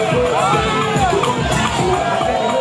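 A jubilant crowd at a PDP political rally in Edo greets the arriving deputy governor with loud, dense cheering and shouting, a continuous close-up roar of many voices.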